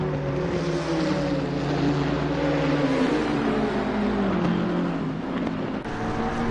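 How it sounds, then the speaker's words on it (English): Race car engines, a BMW and a Nissan, roar continuously around a track, loud and steady with shifting pitch as the cars accelerate and pass. "the growl of those engines"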